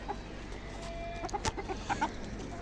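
Native hens being fed their late feed on a seventh-floor rooftop cluck softly in scattered short notes over a steady low background, fairly faint and with no talk.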